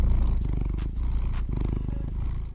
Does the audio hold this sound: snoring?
no